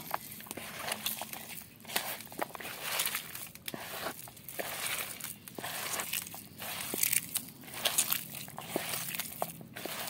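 A hand squeezes and kneads ground rice paste into a chopped taro leaf mixture, making quiet, close, irregular squelching and crunching sounds with no talking.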